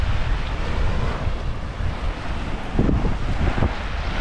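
Waves lapping and wind buffeting the microphone at a lake shore on a summer day, a steady loud roar of surf and gusts with no talking.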